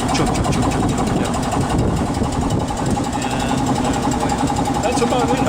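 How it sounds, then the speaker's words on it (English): A small air compressor inside a Southern Pacific switcher locomotive chugs with a rapid, steady mechanical knocking, close and loud, continuous throughout. "And I think I hear the little compressor running in there."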